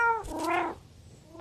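A cat meows in the VR game I'm Cat VR, one drawn-out, rising and falling call standing out close and clear, with faint game sounds around it.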